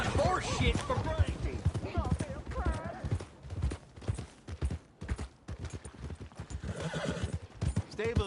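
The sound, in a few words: horse hooves and whinny, video game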